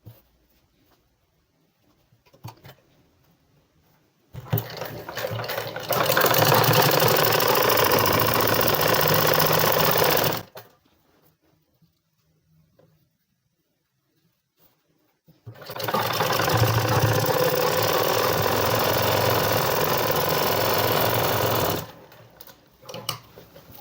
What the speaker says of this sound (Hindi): यहाँ पर एक सीधी सिलाई लगा देनी है